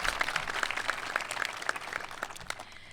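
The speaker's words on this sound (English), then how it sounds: "big round of applause" Graduation ceremony audience gives a round of applause, dense rapid clapping filling the hall and gradually tapering off, with no talk.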